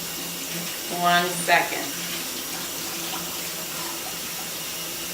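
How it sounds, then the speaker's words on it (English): Hands are washed under a running kitchen tap, a steady, moderate hiss of flowing water with a couple of louder splashes as the hands pass through the stream, and a voice speaks briefly. "Now let me wash my hands."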